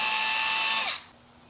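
A power drill spins at high speed while boring a hole into a curved 3D printed nose stand, a steady whine that winds down and stops after about a second.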